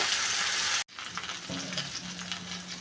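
Okra frying in a pan with a steady broadband sizzle, cut by a brief silence, then stirring scrapes and bubbling return as the frying continues close by, with no talk.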